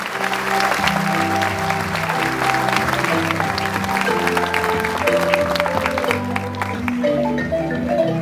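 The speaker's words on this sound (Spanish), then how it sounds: "sacar Fuertes aplausos para nuestra autoridad" Strong applause from the audience for the municipal mayor at a civic ceremony, loud and continuous, with music playing underneath.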